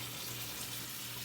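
Hot water runs from a kitchen sink faucet during a home inspection, a steady, even hiss heard alone for a brief moment.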